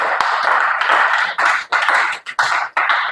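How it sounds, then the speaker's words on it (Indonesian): A classroom of students claps loudly and close in several dense bursts with short gaps between them, applauding a classmate during an Indonesian lesson. "Tepuk tangan dulu untuk Denny."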